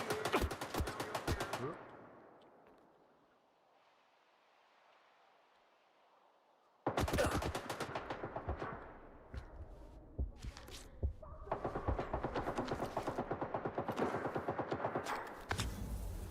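Automatic gunfire at a bandit camp in Stalker 2, loud rapid bursts of shots near the start, then a quiet gap before long sustained volleys resume and continue to the end.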